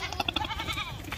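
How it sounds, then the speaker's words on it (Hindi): A Teddy goat at a livestock market gives a few short, wavering bleats, close and moderately loud, over faint background market noise. "ये देखें माशाल्लाह शरारती भी होती हैं टेडी बकरे"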